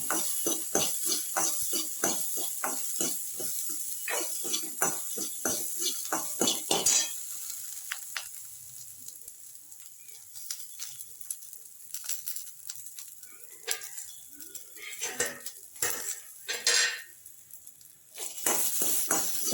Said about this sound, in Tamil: சின்ன வெங்காயம் கொஞ்சம் எண்ணெய் ஊற்றிருக்கேன். எண்ணெயை போட்டு வதக்கிக்கிறேன்.